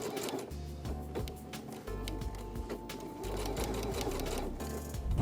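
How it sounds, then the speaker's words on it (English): A sewing machine stitches gathered tulle onto the bottom hem of a blazer, its steady mechanical whirring running in several bursts with brief pauses, close and fairly quiet, with no talking. "Pin and sew onto the bottom of the blazer."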